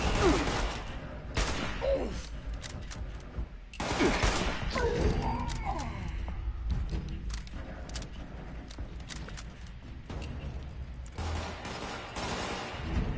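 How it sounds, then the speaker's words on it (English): Gunfire rings out in Fallout 76, with dense bursts of shots and impacts at about 1.5 and 4 seconds and further scattered shots after, all over continuous game noise, with speech mixed in. "Now who's shooting at me?"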